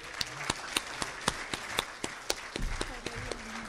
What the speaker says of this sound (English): give our speaker, Director Jasareno, a warm applause